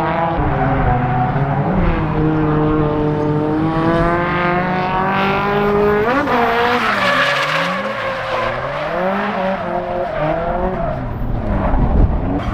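A drift car driven by a professional roars past on a Japanese drift track straight, with loud, sustained tire squeal and a rising, falling engine whine, sweeping close by before fading into continued skidding.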